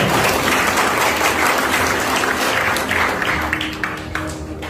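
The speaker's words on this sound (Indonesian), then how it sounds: "Tepuk tangan buat Bapak Ibu." An audience at a business seminar applauds loudly and continuously, a dense wash of many hands clapping that tapers off slightly toward the end.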